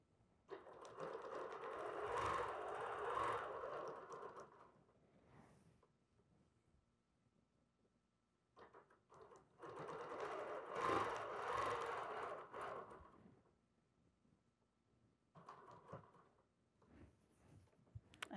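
A BERNINA sewing machine stitches a quilted autumn wall hanging in three bursts of steady, fast mechanical whirring, each several seconds long, separated by near-silent pauses while the quilt is repositioned.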